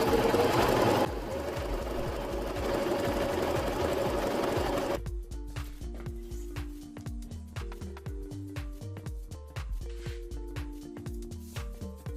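A sewing machine stitches in a loud, continuous run for about five seconds, then shifts to slower, quieter, evenly spaced thumps of individual stitches.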